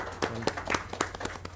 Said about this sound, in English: Please give a big round of applause for all the three films.